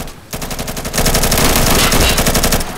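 Rapid automatic gunfire in a first-person shooter video game, a loud, steady stream of closely spaced shots that starts abruptly after a brief pause and continues for over two seconds.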